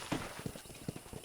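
Horse hooves clip-clop in the Western video game Red Dead Redemption, a quiet series of soft, evenly spaced hoofbeats at a walking pace.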